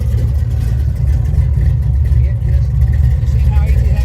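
A classic black car's engine runs just after being started with the key, a loud, close, steady low rumble with a slightly uneven throb.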